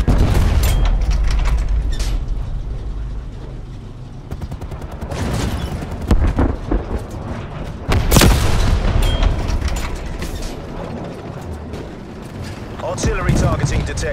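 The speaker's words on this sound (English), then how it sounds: "Neckel, incoming artillery." Artillery shells explode in a Call of Duty Black Ops Cold War match, deep rolling booms and bursts repeating loudly over constant battle rumble, with a game voice calling out warnings.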